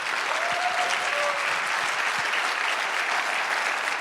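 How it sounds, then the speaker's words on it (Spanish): A church congregation breaks into steady, full applause for the Lord during a Spanish-language service, a dense wash of many hands clapping throughout without letup. "Creo que el Señor merece el mejor aplauso"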